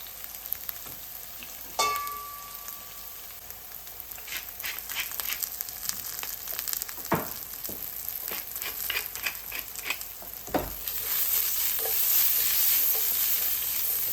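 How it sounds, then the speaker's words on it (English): Onions fry in a pan. A continuous sizzle with scattered crackles and spoon clicks goes on throughout, growing louder and hissier over the final few seconds. "We'll be cooking the other onions separately in a pan."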